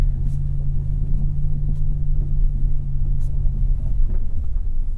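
A 2022 GMC Hummer EV pickup rolls slowly across an icy backyard in a tight turn, giving a steady low rumble of tyres and drivetrain with faint crunches and creaks above it, continuous and close.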